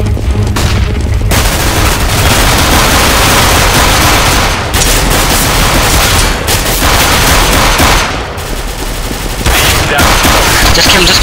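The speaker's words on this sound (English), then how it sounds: "Deploying flashbang." Dense, loud CS:GO firefight with continuous rapid gunfire and booming impacts, including a flashbang, running almost without pause, with brief dips between volleys.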